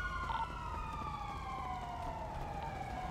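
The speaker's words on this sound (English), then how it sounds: "I hear more sirens." Police sirens wail in a video game during a chase, several overlapping tones sweeping and slowly falling, fairly faint and distant over a low engine rumble.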